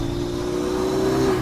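A Honda car engine revving close by, a loud, steady droning roar that holds and swells slightly across a brief moment, with no talking over it.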